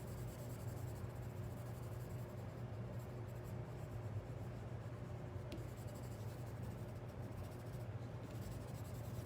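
A colored pencil scratches steadily across paper, a soft continuous rasp of close-up coloring strokes.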